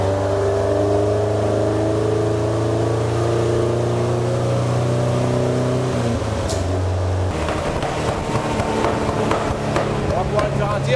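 A car engine held at half throttle on a dynamometer, a loud steady drone with sustained tonal harmonics that shifts pitch midway into a rougher, choppier roar, close up.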